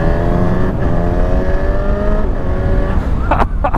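A Honda CB 1000 Hornet motorcycle with stock exhaust revs loudly and close by, its engine note steady and rising in pitch before easing off near the end.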